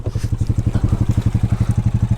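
A Honda Rancher 420 ATV engine thumps in a steady, fast rhythm of loud, close pulses as it drives through deep water with its exhaust submerged.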